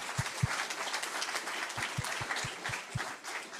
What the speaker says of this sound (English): let's get a round of applause for 4 incredible teams and incredible judges.